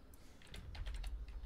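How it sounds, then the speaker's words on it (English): Rapid keystrokes on a computer keyboard while entering text in a game, a run of close, clicky taps in uneven bursts over a low steady rumble, with no talking. "Oh, you're typing it"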